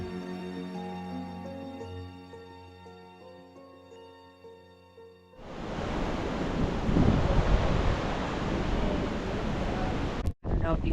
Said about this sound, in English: I don't know if you can tell by the video, but whew, it is windy.